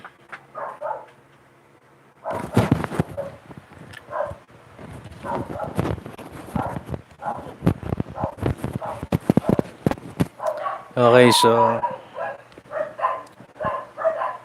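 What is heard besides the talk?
dogs barking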